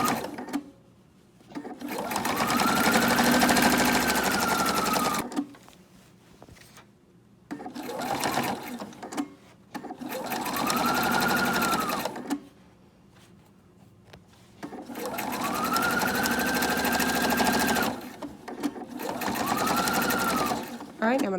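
A sewing machine stitches through thick layers of a Bible cover, whirring in several loud bursts of a few seconds each, separated by short quiet pauses.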